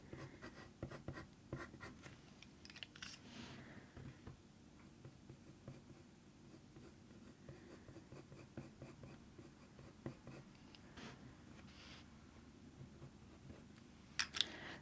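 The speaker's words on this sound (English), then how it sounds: "put a bit of pressure down on the pencil to get a nice grey tone come off of that" A colored pencil scratches across paper while shading a leopard's eye, soft steady strokes in quick repeated bursts, close and quiet throughout.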